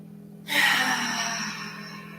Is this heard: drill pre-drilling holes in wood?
no